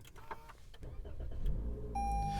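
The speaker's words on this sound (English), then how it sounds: "give me just a second as we start this car up" A 2021 Toyota Corolla LE with its 1.8 liter engine starts up: a short crank rises into a steady, quiet idle, joined near the end by a sustained electronic chime tone, close and moderately loud with no talking.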